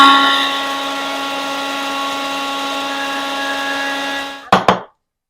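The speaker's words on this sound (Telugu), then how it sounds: "ఇవన్నీ వేసి మిక్సీ పట్టుకోవాలి." A kitchen mixer grinder whirs steadily as it grinds cumin, cardamom and garlic, a loud unbroken motor drone for about four and a half seconds that winds down and ends with a couple of sharp clunks.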